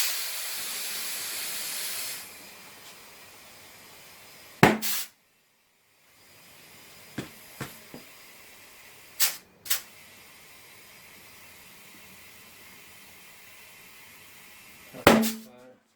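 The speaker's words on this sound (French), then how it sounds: "Donc là on va gonfler, ça va claquer." Compressed air hisses steadily into a rear tyre on an Audi A3 2006 alloy wheel, then stops, followed by several sharp pops and snaps as the bead seats onto the rim, the last crack loud and close.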